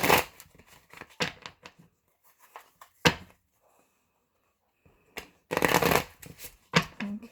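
Witch's Tarot cards are shuffled by hand in several short riffling bursts separated by quiet pauses, close and crisp, with a longer flurry near the end.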